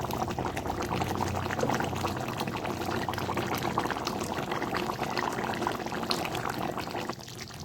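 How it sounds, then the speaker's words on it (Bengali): Chicken kosha gravy bubbling in a pot, a dense, continuous simmering burble with fine popping, close and steady throughout with no voices. "আমাদের গ্রেভিটা সুন্দর করে ফুটতে হচ্ছে"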